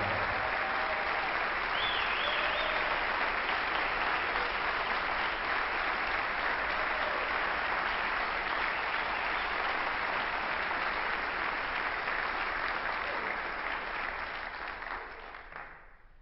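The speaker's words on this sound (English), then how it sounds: "make your applause loud enough they can hear." Sustained, steady audience applause at a college band concert fills the hall for about fifteen seconds, dense and even before fading out at the end.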